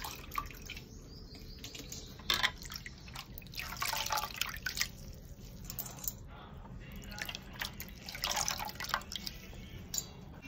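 Water drips and splashes irregularly as soaked flattened rice (aval) is squeezed by hand in a home kitchen, with soft wet squishes over a low, steady background hiss.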